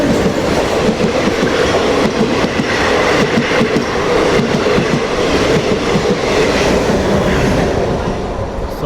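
A passenger train pulls out of Kacheguda station in Hyderabad, its loud, steady rumble and rhythmic clickety-clack of wheels on rail joints carrying on without a break.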